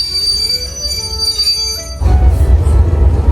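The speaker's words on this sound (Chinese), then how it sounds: "8点03分，进站停稳，" A non-air-conditioned green passenger train, number 4473, pulls into Longhua station with high wheel squeal fading as it halts, then a loud low rumble and hiss take over; no one speaks.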